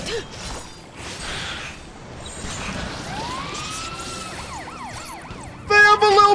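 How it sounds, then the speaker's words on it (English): A wailing police-style siren sounds in a Final Fantasy XIII battle when enemies cast the Rescue heal, rising and falling over game sound effects and growing louder toward the end. "They have a little police siren!"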